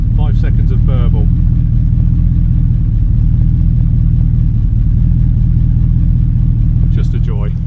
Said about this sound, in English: unmistakable Triumph Stag V8 burble